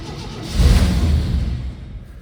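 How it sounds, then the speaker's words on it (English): A 1970 GMC 1-ton truck engine cranks over, a low churning rumble that swells after a moment, holds steady, then slowly fades as it fails to catch, heard close and loud. "Start cranking, add a gear. Come on, fuel pump, start pumping."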